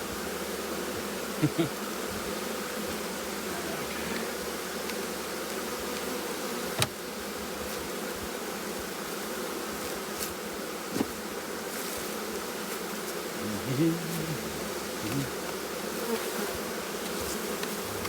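A steady, dense buzzing of many honey bees being installed into a hive fills the air, continuous and close, with a few brief bumps and rustles over the drone.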